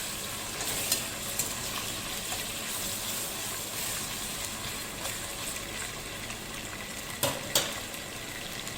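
Ginger garlic paste and spices stirred and fried in a pan over a low flame, a continuous soft sizzle with occasional spoon taps and scrapes, close by and with no talking.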